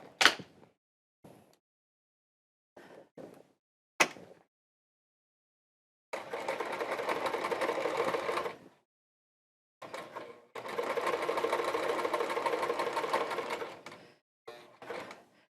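A sewing machine stitching leather chaps runs in two sustained bursts of rapid, even clatter, about two and four seconds long, set among scattered clicks and handling knocks at close range.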